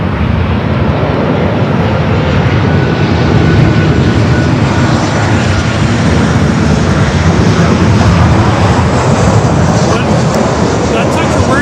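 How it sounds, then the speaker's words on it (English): A corporate jet roars at Los Angeles airport, a loud steady engine rush holding for the whole stretch as it passes close by. "That's such a rare plane to see here because there weren't that many made."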